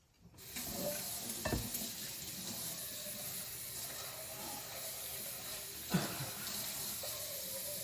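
Hot water runs steadily from a kitchen tap into a pot for cooking rice, a continuous splashing rush with a brief clatter near the start and another around six seconds.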